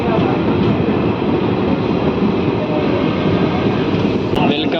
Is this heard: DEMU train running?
yes